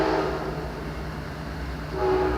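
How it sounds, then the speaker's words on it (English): A passing train rumbles steadily close by, a deep low drone with a sustained horn-like tone sounding near the start and again toward the end, heard alone without talk. "sorry about the train"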